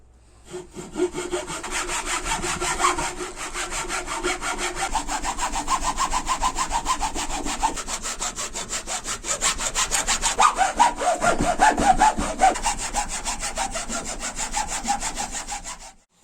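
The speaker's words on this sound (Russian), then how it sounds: "Теперь берем пилу и с этой пилкой же. И начинаем делать пропил." Steady back-and-forth strokes of a hand saw made from hacksaw blades cutting a kerf in wood, continuous and close, with a slight change in tone partway through.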